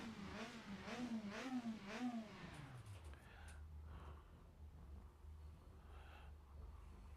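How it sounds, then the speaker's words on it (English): A 1996 BTCC touring car engine revved while stationary at Brands Hatch, three or four loud rising blips that then settle into a low idle rumble. "So if I just sit here and give the engine a few revs"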